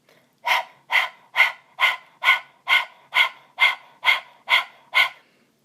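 A person imitates a dog during a breathing exercise, panting with the tongue out: eleven quick, even, breathy huffs in a steady rhythm, close and clear, with no other sound.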